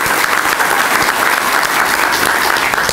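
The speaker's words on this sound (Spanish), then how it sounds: "un aplauso para Juan" Loud, dense applause for a baseball player at a ceremony, an audience clapping continuously and evenly up close.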